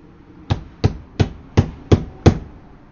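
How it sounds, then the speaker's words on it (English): Six sharp, evenly spaced hammer taps driving a wheel bearing onto a frozen suspension arm during BMW E46 M3 work, close and crisp with quiet gaps between strikes. "So I got the bearing tapped on with the hammer."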